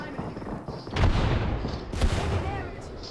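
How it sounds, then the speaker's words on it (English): Gunfire from an enemy squad in Apex Legends, with a couple of heavy booming bursts and scattered shots mixed with game noise while a voice talks over it. "That's another squad shooting at us."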